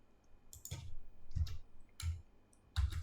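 Computer mouse clicks during FreeCAD work, four separate soft clicks spaced irregularly and heard close and alone in a quiet room.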